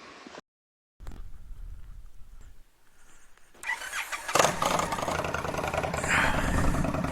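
An Indian Scout motorcycle fitted with a GP Shorty exhaust starts up and pulls away, its engine note building from a low idle to a loud, steady riding roar with wind.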